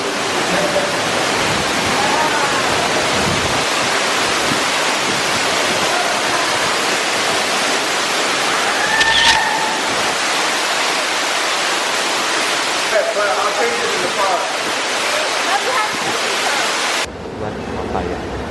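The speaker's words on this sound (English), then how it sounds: "Okay, so there is the waterfall." A waterfall in Ubud, Bali roars as a loud, steady, close wash of rushing water that runs continuously and cuts off sharply just before the end.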